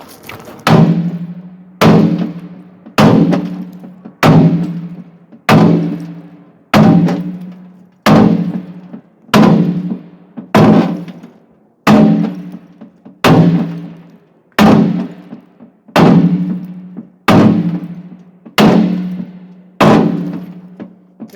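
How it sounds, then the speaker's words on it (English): A sledgehammer pounds a steel tractor bucket in a steady rhythm, about a dozen loud, ringing metallic blows spaced roughly two seconds apart, each decaying quickly before the next strike. "I'm actually using the bounce to reload the sledgehammer"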